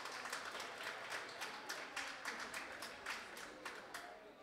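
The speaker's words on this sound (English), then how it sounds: "So let's have a good round of applause for Eric." Audience applause at an Earth Week talk by Food First, dense steady clapping from a crowd that holds at an even level throughout with no talk over it.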